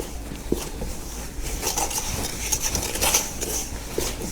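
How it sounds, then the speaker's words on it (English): Multigrain bread dough is stirred in a metal bowl, giving soft repeated scraping and light clinking strokes at close range over a few seconds. "Keep stirring."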